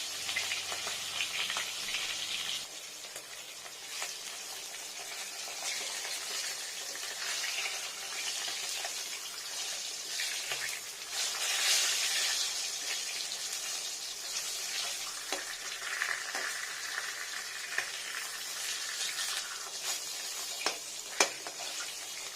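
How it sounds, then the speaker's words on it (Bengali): Pieces of live katla fish sizzle steadily in hot oil in a home kitchen, a dense continuous crackle that stays loud throughout with a few sharper pops near the end, no talking. "কাতলা মাছ হাতে তেলে দিলাম"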